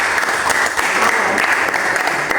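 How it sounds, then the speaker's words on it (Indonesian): Classroom of students clapping together in a steady, dense burst of applause, loud and close, continuing evenly throughout with no talk over it. "Tepuk tangan untuk gimana?"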